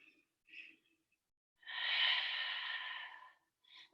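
Audible breathing during a vinyasa yoga flow: a couple of short quiet breaths, then one long, slow exhale lasting over a second, close to the microphone in a quiet room, followed by another brief breath.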